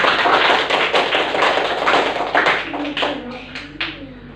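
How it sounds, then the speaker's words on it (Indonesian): Classroom of schoolchildren clapping together in a dense, loud burst of hand claps that gradually thins out, with a voice rising near the end. "Bagus, tepuk tangan"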